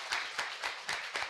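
Audience clapping at a Korean workplace talk show, heard as a short run of rhythmic, evenly spaced claps close by, about four or five beats in a row.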